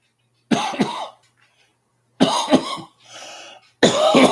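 Three harsh bursts of coughing, each a quick double or triple hack, separated by short pauses with a faint wheezy breath between.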